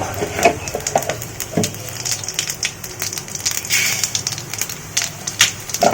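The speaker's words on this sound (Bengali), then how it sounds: "ফোড়নে দেখো জিরে তেজপাতা শুকনো লঙ্কা দিয়ে দিয়েছি" Cumin seeds, bay leaf and dried red chilli tempering in hot oil, crackling and popping in close irregular bursts over a soft sizzle.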